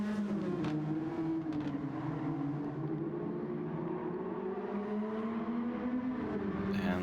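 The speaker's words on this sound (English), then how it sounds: "hearing the beautiful engine noise as Panthro goes very wide." A continuous, droning race car engine in a video game roars steadily with shifting pitch, loud and close, no voices over it.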